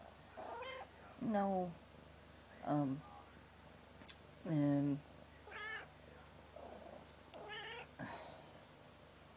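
A domestic cat meows several times in drawn-out, wavering calls spaced a second or two apart, close and fairly loud, while a person talks quietly between and around the cries.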